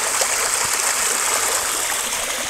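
Shallow creek water flows and trickles steadily, a continuous bright hiss with small gurgles, close by and alone with no voices.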